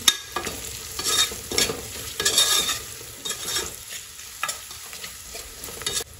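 A spoon stirs spice masala with coriander powder in a frying pan over gentle sizzling, for a rice dish with fresh rajma. It makes repeated rhythmic scraping strokes, close and clear, with no talking.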